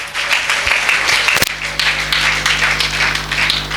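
Sustained applause from a church congregation, many hands clapping in a thick continuous roar with one sharp louder clap or knock near the middle.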